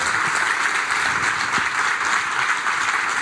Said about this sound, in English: Not everybody is applauding right now, okay?